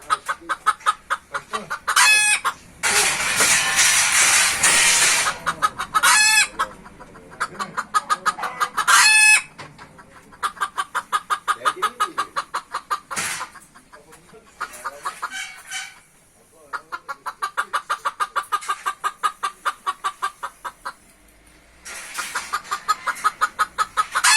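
A rooster crows loudly and close by several times, with rapid clucking and cackling in between and quieter stretches of clucking.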